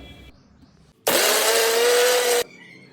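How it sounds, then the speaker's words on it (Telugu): Mixer grinder jar blending coriander seeds, cloves, cinnamon, cumin, ginger, garlic, peppercorns and onion pieces, a loud steady whirring roar that starts abruptly and runs about a second and a half before cutting off, with no talking. "మిక్సర్ జార్ తీసుకుని అందులో ధనియాలు, లవంగ, చెక్క, జీరా, అల్లం, ఎల్లుల్లిపాయ, మిరియాలు, ఆనియన్ పీసెస్ వేసి మిక్సీ వేయండి."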